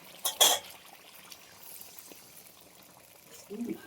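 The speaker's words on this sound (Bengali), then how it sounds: "এর মধ্যে আমি একদমই সামান্য পরিমাণে একটু জল দিয়ে দেবো" A small splash of water is poured into a hot cooking pan, giving a brief, close burst of pouring and sizzle. Quiet cooking sounds follow.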